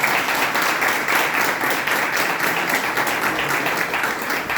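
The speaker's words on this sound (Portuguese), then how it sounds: "Não, palmas para mim." Applause from a small audience after a student project presentation, brisk and continuous clapping holding at a steady level for the whole stretch.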